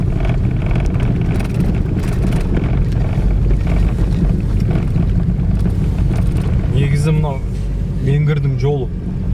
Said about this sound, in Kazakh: Биік деген сайын жел болады ғой.